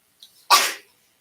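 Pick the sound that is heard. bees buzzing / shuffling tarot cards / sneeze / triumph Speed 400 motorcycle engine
sneeze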